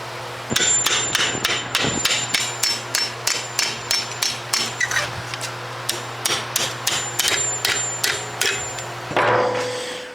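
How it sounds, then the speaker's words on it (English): Steady, rhythmic hammer blows ring on metal, about twenty sharp strikes in a row as a 1948 GMC fender panel is shaped over a round rod, close and loud over a low hum. "hammer this over this round rod here to get the shape that I want"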